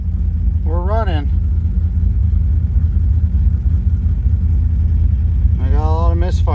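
GM LS V8 engine idling with misfires on cylinders 1 and 8, a loud steady low rumble close by, with a voice speaking briefly at the start and again at the end.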